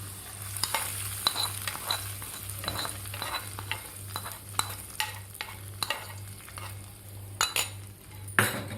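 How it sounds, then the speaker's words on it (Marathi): Spiced buttermilk for Maharashtrian fodniche taak stirred in a pot with a metal spoon, a run of light scraping and clinking strokes, close and steady, with a faint sizzle underneath and no talk. "आता आपण लगेच हलवून घेऊया"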